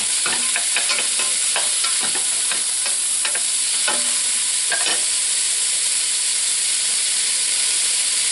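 Onions, celery and carrots sautéing in olive oil in a pot for turkey noodle soup, a loud constant sizzle with a cluster of spoon stirring clicks near the start, close and uninterrupted.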